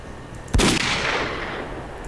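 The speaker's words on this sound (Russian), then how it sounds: "Четыре выстрела, и они готовы." A single sharp rifle shot from a suppressed sniper rifle in a S.T.A.L.K.E.R. video game cracks out, followed by a long rumbling echo that slowly fades, loud and close with no voices.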